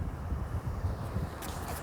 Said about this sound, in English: This wind's not helping. It's not really windy